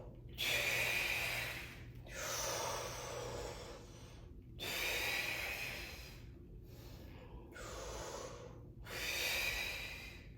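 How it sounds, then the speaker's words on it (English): Slow, deliberate breaths drawn in and pushed out through the mouth during a breath-work exercise, five long airy cycles alternating with brief pauses, close and steady with no talking. "I am inhaling and exhaling through my through my mouth"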